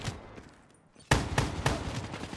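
Gunfire in the video game Black Ops 3: after a quieter lead-in, a sudden burst of rapid, closely spaced shots rings out loud and continues in a rattling string to the end.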